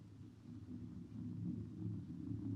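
A low, continuous rumble of a distant herd of creatures rolls on as a radio drama sound effect. It is faint and steady, slowly swelling, with no voices over it.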